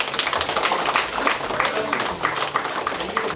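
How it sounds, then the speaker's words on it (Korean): A crowd at a Democratic Party budget policy meeting in Gyeonggi Province claps steadily, a dense patter of many hands that stays moderately loud and close throughout. "박수 한번 부탁드리겠습니다"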